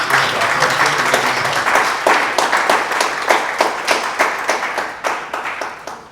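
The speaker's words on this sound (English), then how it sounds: "I think we need to give a resounding round of applause to the government to reach this." An audience at a film policy consultative meeting with a government ministry breaks into applause, distinct claps building then thinning into scattered individual hand claps that fade toward the end.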